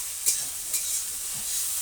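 Onions frying in a pan of oil for a meat curry: a soft, continuous sizzle with a couple of brief stirring clicks, fairly quiet.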